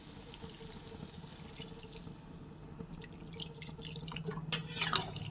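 Water being poured into a pot of cucumber curry cooked with Gobindobhog rice, a soft splashing pour that builds late and lasts about a second before trailing off, over faint kitchen background.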